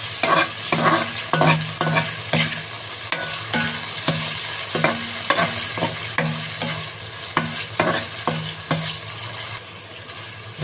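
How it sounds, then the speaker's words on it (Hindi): Chicken for chow mein sizzles steadily in a pan while a utensil scrapes and stirs in regular, closely spaced strokes, loud and near, with no voices. "थोड़ी देर इसको हम फ्राई करेंगे।"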